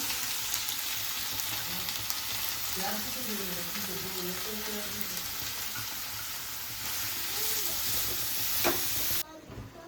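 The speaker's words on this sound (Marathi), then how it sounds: "आता तूप आपले गरम झालेले आहे त्यात पहिल्यांदा मी गाजराचा पीठ घालवू" Grated carrot frying in hot cow's ghee for gajar halwa, a steady close sizzle and hiss with faint stirring, a voice speaking briefly underneath, cutting off abruptly at the end.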